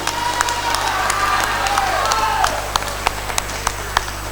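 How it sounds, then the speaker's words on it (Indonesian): Audience clapping and cheering after a public debate of regent and vice-regent candidates in Ketapang, West Kalimantan, with a steady hum beneath and a few sharp claps standing out near the end. "mari kita sama-sama berikan tepuk tangan yang meriah kepada keempat pasangan kandidat kita"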